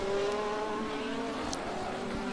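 Ferrari GT3 race car engines in a racing video game at Road America drone steadily with a constant high-pitched whine, loud and unbroken throughout.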